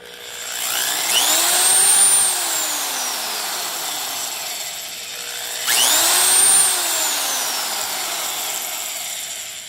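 A DeWalt DW130V heavy duty half-inch drill spins up twice, each run winding up to a high whine, holding briefly, then coasting down, loud and close with no talk.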